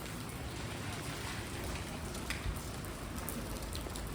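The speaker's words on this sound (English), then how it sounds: "Heavy rain." Heavy rain falls at night on the streets of Ulverston, a town with shops and a lit market square: a dense, steady hiss of downpour with close spattering drops, constant and loud throughout, with no voices.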